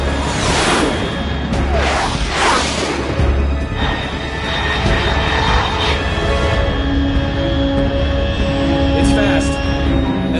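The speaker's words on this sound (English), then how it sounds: "Control, unidentified aircraft detected." A supersonic aircraft in Metal Gear Solid 3 streaks overhead at Mach 3, a loud broad whoosh and rumbling roar that swells in the first few seconds, then trails off into a sustained, steady drone.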